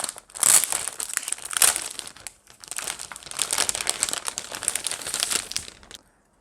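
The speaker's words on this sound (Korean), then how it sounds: "우선 비닐을 개봉해서" Plastic wrapping on a VR cardboard kit crinkles and tears open for several seconds, with close, crisp rustling that comes in bursts before stopping abruptly.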